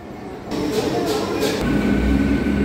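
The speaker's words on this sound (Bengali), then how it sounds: "ওই যে ঢুকছে তারকেশ্বর হাওড়া লোকাল" A Tarakeswar–Howrah local train rolls into Bally station in West Bengal, a loud, steady rumble of the train close by with hissing bursts and a deepening low roar as it pulls in.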